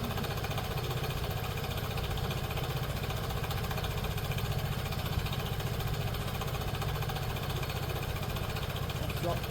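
A Piaggio Liberty iGet scooter engine idles steadily while warming up after repair, a continuous low mechanical hum with no revving, heard up close.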